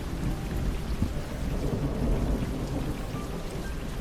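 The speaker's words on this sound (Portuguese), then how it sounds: "Só se ouvia o som da chuva lá fora." Steady rain pours down outside, a dense continuous hiss with low rumbling underneath, no voices present.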